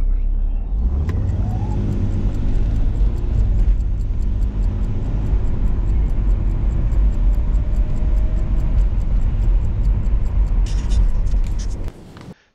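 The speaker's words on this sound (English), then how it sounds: "Let me warm up the engine first." A Mercedes R107 280SL with a worn plastic throttle linkage part idles steadily and loudly at close range, its engine rumbling continuously for about eleven seconds with mild rises in revs before cutting off near the end.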